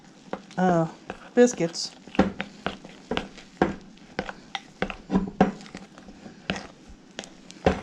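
Dumpling dough for chicken and dumplings is stirred in a bowl, giving irregular soft scraping and knocking strokes close by, with a brief spoken word early on.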